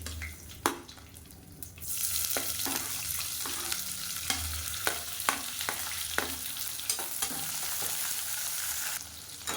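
Sliced onion sizzling in a hot pan with fennel seeds, curry leaves and mint for a red rice dosa, a steady loud frying hiss punctuated by the clicks and scrapes of a stirring spoon, close up and without talking.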